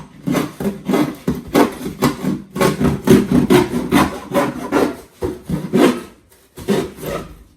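A knife slicing open a cardboard shipping package in a series of rough scraping and rubbing strokes, close and loud, with short pauses between the cuts.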